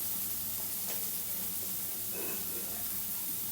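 Chopped onion with a little salt and curry leaves frying in a pan, a steady soft sizzle and hiss running throughout, fairly quiet and close, with no talking.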